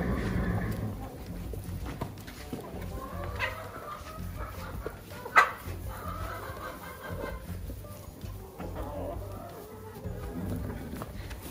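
Chickens cluck and murmur in the background, mixed with faint barking and rustling, with one sharp knock midway.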